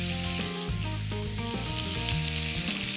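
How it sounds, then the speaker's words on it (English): Chicken sizzles and fries on a grill pan drizzled with olive oil, a loud, steady crackle with a constant hiss and no talking. "drizzle the grill pan with a little bit of olive oil, and then the chicken goes right on"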